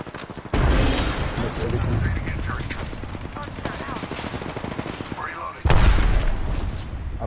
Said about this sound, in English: Heads up. Grenade.